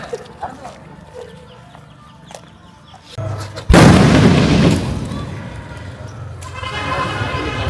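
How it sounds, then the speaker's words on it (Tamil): A single Diwali firecracker bursts with a sudden loud boom that decays into a long rumbling tail, preceded by quieter background noise and a low hum, outdoors during the celebration. "பட்டாசு ஒரே ஒரு வெடி வைக்கிறோம்."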